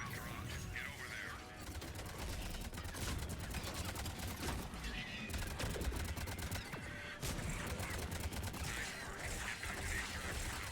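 Rapid gunfire from Mass Effect 3 multiplayer, a player emptying a magazine point-blank into a Banshee, comes as dense, crackling bursts of shots at a low overall level and continues almost without a break.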